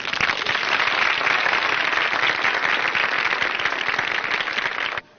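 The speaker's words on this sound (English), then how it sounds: "Is that applause I hear?" Audience applause, a dense, loud and steady burst of many hands clapping together that stops abruptly at the end.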